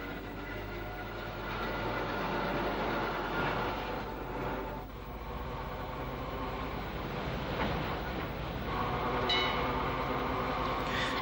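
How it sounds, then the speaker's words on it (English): An open-top electric tram car running on Brill bogies pulls away from a station forecourt on an Irish line of the 1940s or 1950s, giving a steady, fairly loud rumble of running gear and motors with a brief higher squeal near the end. "tram number 3 prepares to depart from the station forecourt"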